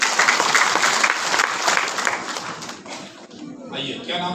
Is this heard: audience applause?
yes